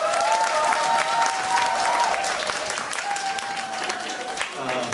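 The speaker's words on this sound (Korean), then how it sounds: "뜨거운 박수 부탁드립니다" Loud, sustained applause from a concert audience, dense clapping filling the whole stretch with a faint musical tone drifting beneath.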